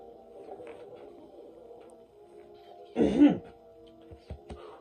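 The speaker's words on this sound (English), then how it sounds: "I had to clear my throat again." A single rough throat clearing, close and fairly loud, breaks through a quiet background hum, followed by a couple of small clicks.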